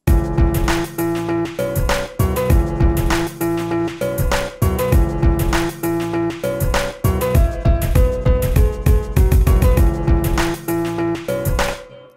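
A self-recorded loop, chopped up in a sampler, plays alone and loud, with punchy repeated chopped chord stabs, a recurring short melodic figure and steady thumping low hits throughout.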